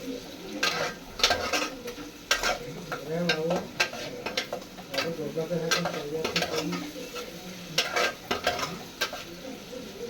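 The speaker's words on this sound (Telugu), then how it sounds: "కాకరకాయ ముక్కలు కూడా మగ్గిపోతున్నాయి" Bitter gourd pieces frying in a pan, a steady sizzle broken by repeated scraping and clinking strokes of a spoon stirring them, loud and close.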